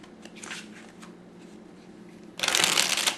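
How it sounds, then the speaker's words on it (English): Tarot cards riffle shuffled by hand, with soft card handling and taps early on, then a loud, close burst of fluttering riffle near the end. "Let's do one more riffle."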